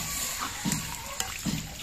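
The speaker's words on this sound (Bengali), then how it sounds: "এবার এর মধ্যে আমি ঝোল দিয়ে দিচ্ছি।" Water poured into a pan of potatoes and onions sautéed with spices for koi fish curry, a short splashing, sloshing pour close by.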